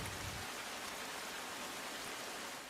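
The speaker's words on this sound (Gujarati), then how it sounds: "છેલ્લા એક કલાકથી પડી રહેલા અવિરત વરસાદને પગલે શહેરના અનેક વિસ્તારમાં પાણી ભરાવાની સ્થિતિ જે છે તે સામે આવી છે" Heavy rain pours steadily onto an Ahmedabad street in the Vijay Char Rasta area, where the street is waterlogged. It makes a dense, continuous hiss with no breaks, close and loud, and no voices are heard.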